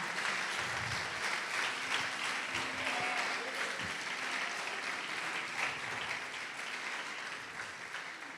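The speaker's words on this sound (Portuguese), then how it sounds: "Pode aplaudir" Congregation applauding during a Portuguese-language Protestant church sermon, a dense, steady wash of many hands clapping that holds for the whole stretch and fades slightly toward the end, with faint voices mixed underneath.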